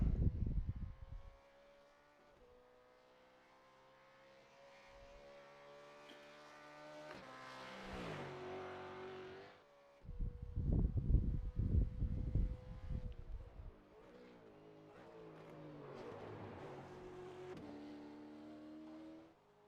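A race car engine in the iRacing sim at the Bathurst circuit, droning steadily with rising revs and sharp drops at gear changes, loud and close, with no talk over it.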